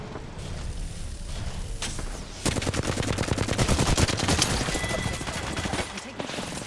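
Dense automatic gunfire erupts in a video game firefight, a loud rapid stream of shots that starts after a quieter lead-in and rattles on steadily for several seconds, with voices talking over it.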